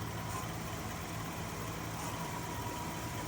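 Wood lathe motor spinning up to speed while turning a cherry bowl, a steady, even mechanical hum with a broad whirring hiss, continuous and fairly close, no voices.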